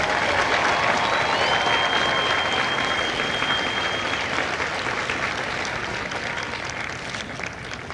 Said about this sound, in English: please join me in a round of applause for the company staff of Company E